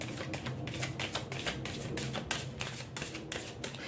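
Tarot cards riffle and slap in a steady run of quick papery bursts, shuffled and drawn close by for a reading, with no voices over them.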